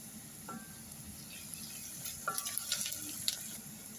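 Finely chopped garlic cloves sautéing in oil for a chickpea curry, a faint low sizzle with scattered soft stirring clicks near the end.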